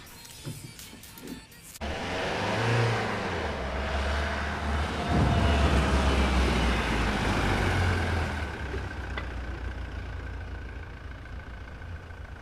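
A garbage truck's engine rumbles up close and steady for about ten seconds, a loud low drone that starts abruptly and then eases slightly as it idles.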